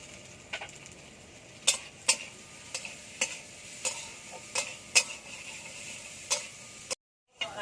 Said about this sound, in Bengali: কাঁঠালের দানাটা লাল লাল করে ভাজা হয়ে গেছে